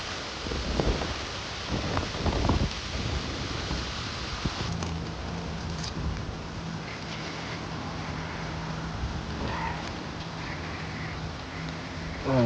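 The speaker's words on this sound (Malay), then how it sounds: "Pendak hujan ni." Steady rain hisses over a fishing spot on the Penang coast, a broad, even wash of noise with a few low rumbles and knocks early on.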